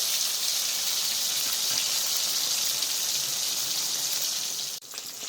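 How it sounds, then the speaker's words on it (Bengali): Pieces of rohu fish fry in hot oil in a pan, giving a steady, even sizzle that holds at a constant level and dips briefly near the end. "এরকম লাল করে ভেজে নেবো সবকটা মাছ ভালো করে।"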